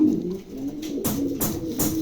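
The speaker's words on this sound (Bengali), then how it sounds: "প্রিয় দর্শক এখানে একজোড়া কবুতর আছে দেখেন চমৎকার একজোড়া কবুতর আছে" A pair of pigeons coo in soft, low repeated calls, close by, with several rounded coos over about two seconds and no talking.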